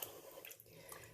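Embroidered fabric from a stitched hoop is rubbed by hand in murky water to loosen grimy plastic residue, giving a faint, continuous wet swishing and sloshing with no voices.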